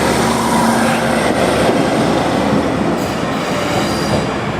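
A pair of Class 156 diesel multiple units runs past loud and close, giving a steady, dense rumble with wheel noise and a brief squeal and no talk over it.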